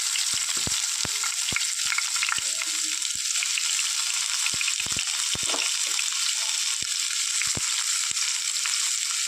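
Chopped onions and curry leaves frying in a pan, a constant bright sizzle close by with sharp clicks and taps of a spoon scattered throughout, no talk.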